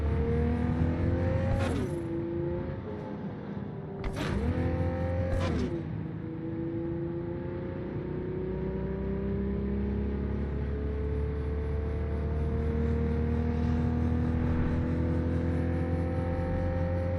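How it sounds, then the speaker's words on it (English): Corporate-style car in Cyberpunk 2077 revving hard, a loud sustained engine drone with rising pitch sweeps around two and four to six seconds, then a steady high hum that climbs gradually as it accelerates, no talking. "She's revving up!"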